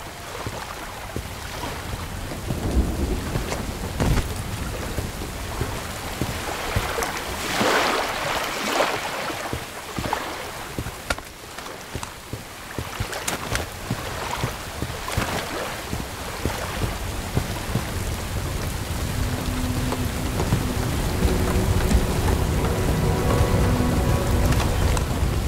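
Steady rain pours throughout a rainy night mission in the video game Bright Memory Infinite, a dense broadband hiss with drops spattering on surfaces, rising slightly toward the end alongside faint low tones.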